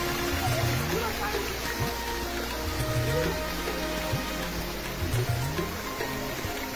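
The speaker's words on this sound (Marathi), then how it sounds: "हे वडा वाहू राहिलेला आहे।" Stream running with water overflowing from a borewell, a steady rushing wash of flowing water close by, with someone talking over it.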